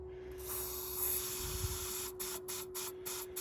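A faint aerosol spray of ether into the intake of a Chevy 6.5 turbo diesel engine hisses steadily, then breaks into several short bursts toward the end, over a low background hum.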